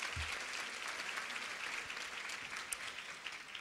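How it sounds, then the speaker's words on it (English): Luncheon audience at a women's fund program applauding steadily, a dense wash of clapping hands filling the room with no voices over it. "you deserve a round of applause for yourselves"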